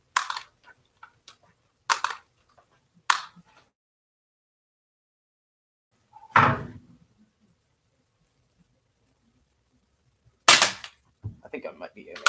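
A BB gun fires several sharp, isolated cracks spaced seconds apart, close and loud against silence, with brief speech near the end.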